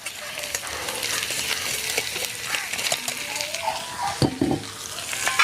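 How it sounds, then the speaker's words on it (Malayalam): Washed, drained lentils sizzle and crackle in hot ghee over low heat, with stirring and occasional clinks of a utensil against the pan, close by. "ഇതിൽ കൂടെയാണ് നമ്മുടെ പരിപ്പ് ഒന്ന് വറുത്തെടുക്കണം കേട്ടോ"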